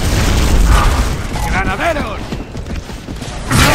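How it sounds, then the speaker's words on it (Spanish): Grenade blast in the shooter game Gears of War: Judgment, a loud booming burst with rumbling low end amid ongoing gunfire-like noise, as voices shout over the action. "acerca una granada"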